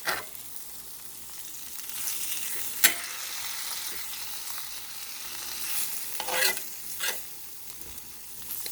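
Grass-fed cheeseburger sliders sizzling in a pan, a steady crackling fry with a sharp scrape and several louder spitting bursts as the patties are flipped.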